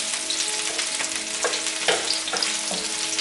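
Jalapenos and green onion frying in a hot pan for a prawn dish, a loud continuous sizzle close by with bursts of stirring scrapes and crackles, no talking.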